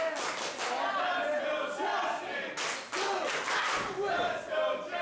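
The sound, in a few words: wrestling crowd cheering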